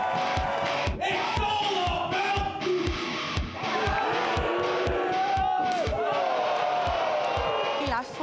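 A loud, roaring crowd at a live wrestling show, with a dense, continuous wall of cheering and shouting and rhythmic stomping or clapping thumps beating underneath, voices rising and falling throughout.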